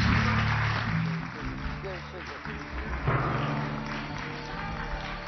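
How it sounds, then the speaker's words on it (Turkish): Studio audience applause on a Turkish talk show, a dense wash of clapping that fades and swells again over a few seconds, with a voice speaking over it. "bir alkış alalım arkadaşlarımıza"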